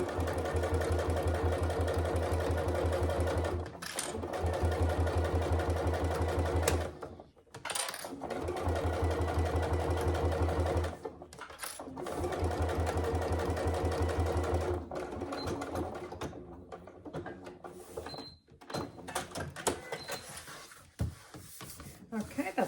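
A sewing machine runs a long top stitch along a wash bag in long steady whirring runs broken by brief stops, the motor close and fairly loud, with a speaking voice heard now and then.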